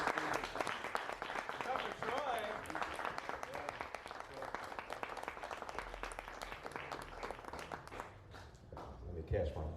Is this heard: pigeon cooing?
no